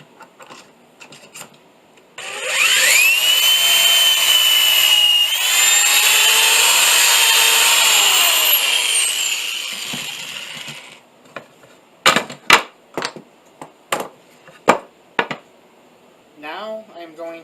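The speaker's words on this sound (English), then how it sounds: "I have a drill bit here set up with a stop collar at the appropriate position for drilling pocket holes in 3/4 inch thick wood." Electric drill boring pocket holes into 3/4 inch thick wood with a stop-collared bit, a steady high whine lasting about eight seconds, followed by several sharp clicks and knocks.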